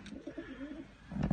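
Pigeons in a rooftop loft give soft, low cooing calls through most of the moment, fairly close, then a louder rustle or flutter near the end. No one speaks.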